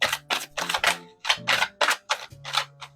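Tarot cards shuffled by hand in a run of crisp, rapid riffling bursts, close and fairly loud, with brief gaps between each flurry and no talking.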